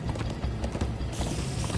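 Minecraft: Story Mode horses gallop in a fast, steady clip-clop of hooves, loud and close, with a faint mechanical rattle behind them.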